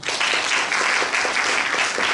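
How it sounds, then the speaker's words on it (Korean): A lecture audience at a police training centre in Seoul breaks into steady, close applause, a dense wash of many hands clapping together that carries on evenly throughout. "박수 한번 쳐줘, 박수"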